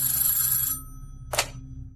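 A telephone ringing sound effect: a bright electronic ring fills the first part, then stops, followed by a short second burst after a pause, loud and close with no talking.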